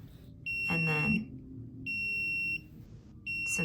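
An Arduino alarm clock buzzer sounds three piercing electronic beeps separated by short pauses, with the tone lengths shifting as light on a sensor changes; a voice talks softly underneath.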